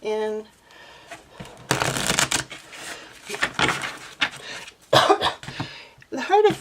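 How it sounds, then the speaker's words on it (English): A deck of oracle cards is shuffled by hand in several bursts of riffling and sliding, close and crisp, with short pauses between them. "Let's just get these kind of shuffled up a little"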